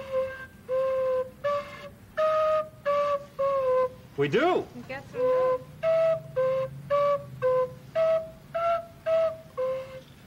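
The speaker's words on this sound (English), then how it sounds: "if it's a slanted hole, then the air comes out and makes that whistling sound" A homemade recorder with drilled holes plays a series of clear, sustained whistling notes at changing pitches, with a brief voice breaking in midway; the notes come in short repeated bursts, close and fairly loud.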